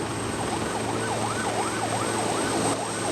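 A navy medical ambulance waits at a helipad for a rescued victim, its siren wailing in a steady rising and falling cycle, loud and continuous over a low engine rumble.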